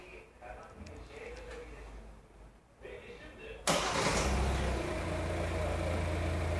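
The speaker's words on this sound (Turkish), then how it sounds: "Çalıştırın arabayı." A 2019 Hyundai Tucson engine cranks and fires up at close range after a few seconds of quieter background noise, then settles into a steady, loud idle.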